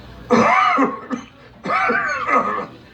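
Harsh, rasping coughs in two loud bursts, close up, with a brief catch of breath between them.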